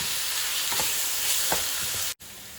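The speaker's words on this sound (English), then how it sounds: "We stirred the meat until it changed color." Chopped meat for a Persian khoresh qaimeh sizzles in a pot over medium heat while a spoon stirs it, a steady bright hiss broken by a few scraping stirs, loud and close.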